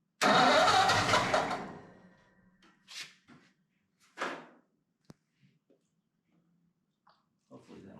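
A Ford flathead 8BA V8 in a Pomona panel truck cranks and fires with a loud, close roar, then fades and dies. A few short sputters and quiet voices follow.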